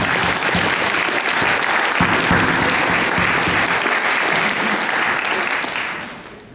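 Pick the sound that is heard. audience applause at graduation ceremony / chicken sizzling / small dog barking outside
audience applause at graduation ceremony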